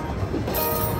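Brief rolling train sound effect from a Cash Express Luxury Line slot machine, a continuous rumbling rail clatter heard alone and fairly loud.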